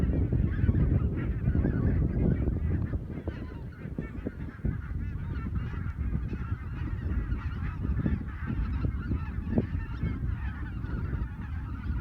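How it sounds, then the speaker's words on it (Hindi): A large flock of geese honks continuously across open farm fields, many overlapping calls at a steady distance, with wingbeats and landing noise mixed into a dense, even chorus. "तो बहुत सारे पक्षी बैठे हुए हैं, काफ़ी दूर हैं।"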